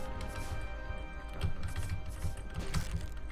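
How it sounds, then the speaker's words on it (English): Computer keyboard keys clatter in quick, irregular flurries during a Starbound gameplay session, moderately close and steady, with louder clusters of presses toward the middle and end. "You can probably hear my keyboard going a little crazy"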